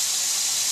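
Tomatoes and chillies frying in hot oil, giving a dense, continuous hiss that is close and even across the whole short stretch, with no talk.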